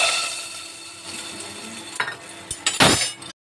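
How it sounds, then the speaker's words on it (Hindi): Cumin seeds crackle and sizzle steadily in hot oil, with a few sharper pops and a louder burst of spattering near the end before it cuts off. "जीरा मेरा चटक रहा है"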